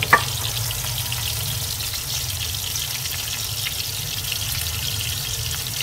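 Beef chapli kabab patties fry steadily in a pan, giving a continuous, fairly soft sizzle and crackle with no talking, after one brief louder click at the start.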